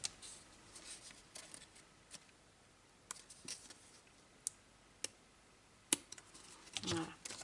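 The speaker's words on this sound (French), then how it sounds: "je vais prendre mes ciseaux" Scissors snipping open a toy rabbit's paw to slip a carrot inside, a scattering of faint, sharp clicks and cuts set apart by quiet gaps, ending in a short rustle.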